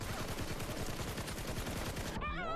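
Rapid, loud gunfire from a shotgun in a first-person shooter video game, dense repeated blasts filling most of the moment before cutting to a brief electronic tone at the end.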